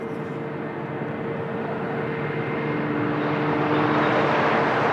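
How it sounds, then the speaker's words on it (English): An Embraer 190 airliner arriving from Marrakesh at Lisbon Airport, a steady jet engine roar that grows gradually louder over a few seconds, with a faint tonal whine on top. "So we have the flight from Marrakesh in Embraer 190 AR."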